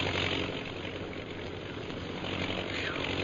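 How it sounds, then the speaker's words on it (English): A low-flying propeller airplane in a jungle radio drama, a steady loud engine drone that holds for the whole stretch with no voices over it. "That plane's flying pretty low."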